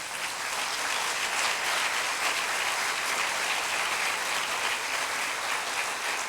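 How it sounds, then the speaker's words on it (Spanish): A church congregation applauds during a Christmas sermon, a loud, sustained wash of many clapping hands filling the room evenly from start to finish, with no talk over it. "Dale un aplauso al Señor."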